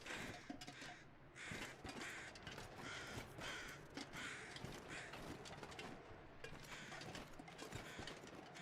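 Crows caw repeatedly in the survival video game The Long Dark, harsh calls overlapping steadily throughout against a dense, noisy ambient bed, with some mechanical clicking mixed in.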